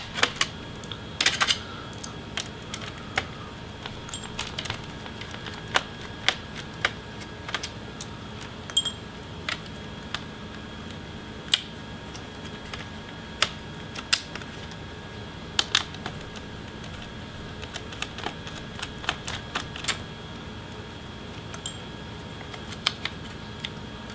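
Small screws being backed out of the CPU cooling fan in an Asus ROG GL553V laptop, giving faint, sparse clicks and light metallic ticks from close by over a quiet background.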